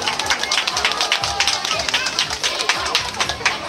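A crowd claps fast and close at a Halloween costume contest, the applause steady and lively from start to finish.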